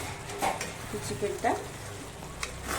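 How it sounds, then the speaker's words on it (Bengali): A spatula stirs papaya chicken curry in a pan over low-medium flame, with soft scraping strokes and clinks over a gentle, quiet sizzle. "আমি ভালো করে নাড়বো যদি তলায় ধরে না যায়"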